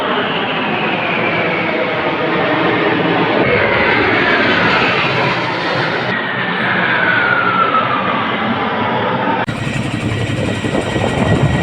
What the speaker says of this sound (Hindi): पानी की बौछारें आपको दिखा रही है कि इस हेलीकॉप्टर की उड़ने में कितना दम है।